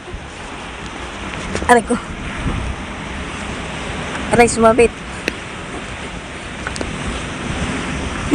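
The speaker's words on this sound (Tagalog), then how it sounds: "Lakas ng hangin guys." Strong wind gusting over a rocky shore with waves washing in, a steady roar of wind noise across the microphone, with short bursts of speech over it.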